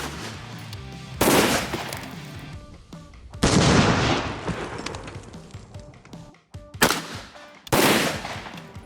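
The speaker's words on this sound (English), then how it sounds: "So I shot the cantaloupe" Rifle shots fired at a watermelon target: four loud, sharp cracks spaced irregularly over several seconds, each followed by a brief decaying echo, with no talking.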